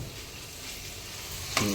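Sliced ivy gourd (dondakaya) frying in oil in a home kitchen pan, a steady close sizzle with light stirring, swelling into a brief louder burst of hissing near the end; no talk.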